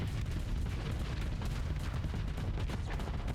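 Enemy ship weapons firing in the space combat game Starsector, a dense, rumbling barrage of rapid impacts and booms running continuously without pause.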